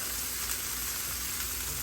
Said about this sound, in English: cooking or frying or whatever you want to call it. Hamburgers, beef.